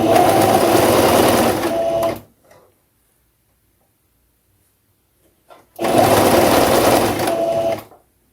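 A sewing machine stitches the hem of a loose blouse in two fast, whirring bursts of about two seconds each, separated by a few seconds of near silence, loud and close.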